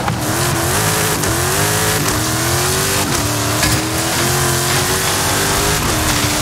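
Car engine in Forza Horizon 5 roars steadily as the vehicle drives off-road, with revving pitch rises and falls throughout, loud and continuous with no talking.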